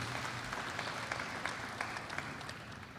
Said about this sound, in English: We need to applaud Baroness Scotland and Ambassador Sudham.